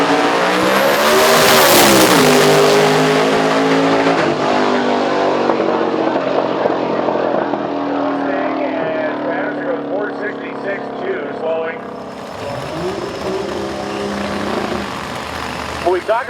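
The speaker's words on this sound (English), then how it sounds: "And then here comes the turbocharger." A turbocharged diesel race car engine accelerates hard on a drag racing track, its loud roar rising and falling in pitch through gear changes, with a commentator talking throughout.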